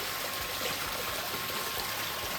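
Steady rush of dirty water flowing over a sluice mat, a continuous broadband wash with no voices, fairly quiet and even throughout.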